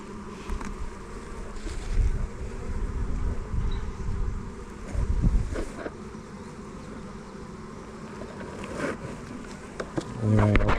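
Honey bees hum and drone around an open hive at a farm apiary, a steady low buzz with occasional closer passes and brief rustles, no voices.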